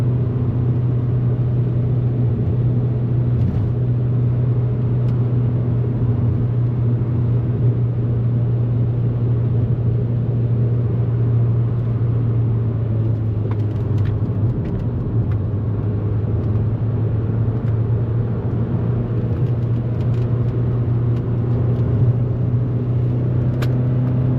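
A 2002 Audi TT 1.8T Quattro driving sweeping highway switchbacks, a steady loud engine drone and road rumble heard from inside the car, holding even without a break.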